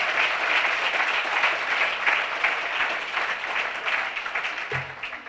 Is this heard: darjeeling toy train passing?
no